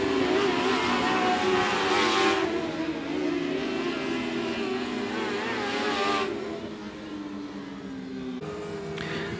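Race cars on a quarter-mile speedway during a heat race at 105 Speedway, engines droning loudly together with rising and falling pitch as the pack circles, fading slightly toward the end.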